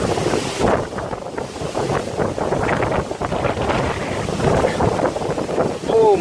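Strong stormy wind in Finland buffets the microphone outdoors on a dog walk, a loud continuous roaring gusty rush with brief lulls, and a voice speaks over it.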